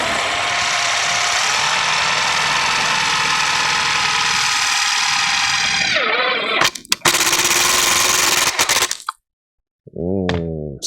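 Power driver shooting self-tapping screws into sheet metal while assembling a thermal mount: sustained high whine of the driver, a pitch drop as it stalls, several sharp cracks and clicks, then silence and a short rising motor burst.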